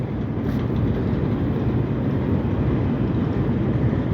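A CSX freight train led by a Norfolk Southern GP switcher locomotive rolls past on the Delair line, making a loud, steady, unbroken rumble of engine and wheels that holds throughout.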